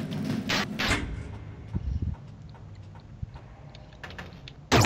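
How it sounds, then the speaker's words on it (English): A door opens in the video game Another World, with a short, loud mechanical burst near the end over scattered quieter game noises. "Oh, now that guy's door opens."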